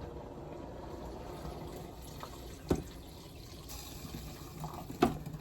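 Freshly boiled water pours steadily from a kettle in a home kitchen, a continuous close splashing fill with two brief clunks partway through.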